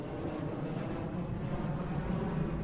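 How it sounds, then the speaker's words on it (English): An airplane passes overhead in American Truck Simulator near an airport in the morning, a steady low engine drone that holds evenly throughout without any talk. "You can hear a plane going overhead."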